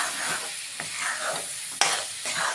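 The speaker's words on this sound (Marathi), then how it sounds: "हे आपल्याला आता हे एक एकसारखं हलवत राहायचं आहे" A spoon scrapes and stirs a thick coconut barfi mixture in a wok over a high gas flame, with a steady sizzle and a few sharp scrapes against the metal. No voices are heard.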